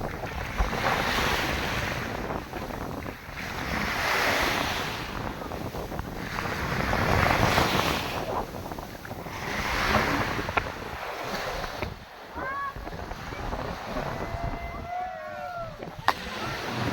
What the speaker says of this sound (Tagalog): Lakas ng alon. Lakas ng alon, guys.